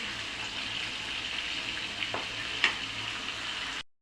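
Rohu fish frying in spices in a pan sizzles and crackles steadily up close, with a few brief spatters and stirs before it cuts off abruptly.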